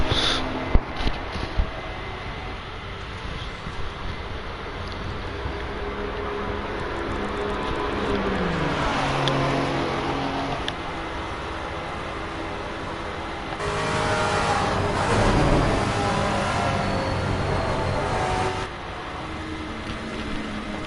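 GT race cars lapping Paul Ricard in Assetto Corsa Competizione, engines droning near and loud with rising and falling revs as two cars battle closely, a sharper surge of engine noise midway.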